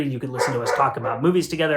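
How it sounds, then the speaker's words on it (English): A dog barks in short bursts in the background while someone talks steadily over it in the foreground. "I apologize for the barking dog."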